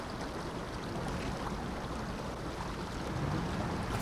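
A truck in Mudrunner Expeditions fords a river, with steady churning and splashing water filling the scene alongside a low, muffled rumble, continuous and moderately quiet throughout.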